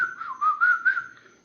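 A cartoon mouse character whistles a bright, wavering tune in a horror-comedy spoof, several rising and falling phrases carried alone and up close.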